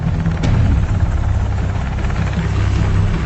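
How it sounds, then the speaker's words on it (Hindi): A helicopter hovers overhead at night above a compound in Abbottabad, a loud continuous rotor thump and engine roar filling the whole stretch without letting up. "2 हेलीकॉप्टर एबटाबाद की इस गुमनाम हवेली के ऊपर आकर ठहर जाते हैं"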